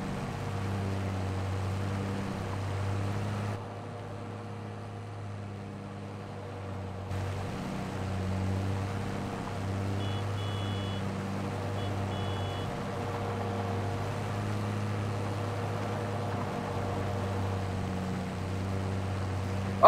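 A tractor engine drones steadily in Farming Simulator 22 during bush hogging, a low continuous hum with a brief dip in the middle, joined by faint high beeps partway through.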